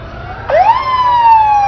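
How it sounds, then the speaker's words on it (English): A fire engine siren in an Independence Day parade swoops up sharply and then holds a loud, steady wail close by, with no talking over it. "here come the fire engines, which means we're going to have to be quiet because the fire engines are not quiet"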